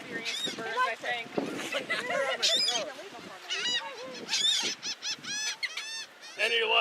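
Seagulls squawk and cry repeatedly in a close, noisy flock around people on an outdoor beach, their harsh calls overlapping with excited talk throughout.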